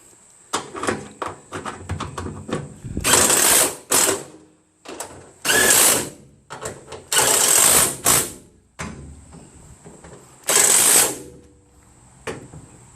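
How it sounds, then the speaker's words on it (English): Impact wrench removing the bolts of a ladder roof rack on a Ford E350 Super Duty cargo van, with several loud bursts of rattling, whirring hammering separated by pauses and handling clatter. "Go somewhere and buy one of these impact wrenches"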